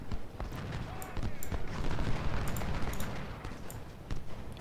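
Cannon fire in the Civil War strategy game Ultimate General, set at the Battle of Iuka: a dense barrage of overlapping booms and crackling reports, loud and continuous, with a few sharper blasts standing out.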